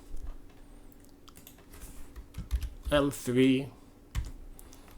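Light clicks on a computer keyboard while entering potential names in an EPLAN 2025 electrical project, a few sparse, soft taps scattered under a man's speech.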